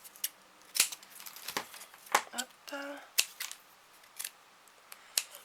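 Scissors snip through pink gingham masking tape in a quiet room, giving a series of sharp, close clicks and short cuts at irregular intervals. Someone briefly speaks a single word in the middle.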